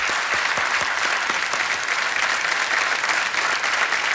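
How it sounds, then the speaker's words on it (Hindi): A studio audience on the quiz show KBC applauds a player, a loud, steady wash of many hands clapping throughout with a few sharper claps near the start, no voices over it. "बार फिर तालियां बज जाएं इनके लिए।"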